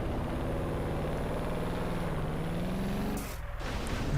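Racing game car engine held at full throttle, a steady loud drone lasting several seconds that dips and thins briefly near the end before picking up again.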